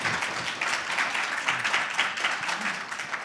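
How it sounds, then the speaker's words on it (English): A panel audience gives a round of applause, a dense wash of many hands clapping together at a fairly steady moderate loudness, with faint voices mixed in. "Let's give them a round of applause"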